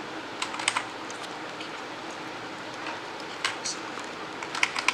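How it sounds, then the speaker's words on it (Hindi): Keys clatter and click on a Quantum wireless computer keyboard, close-up and irregular, with brief bursts of taps and scattered single clicks over a faint background hiss. "ये कीबोर्ड है और ये मैंने क्लिक करा।"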